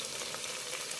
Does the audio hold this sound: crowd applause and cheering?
no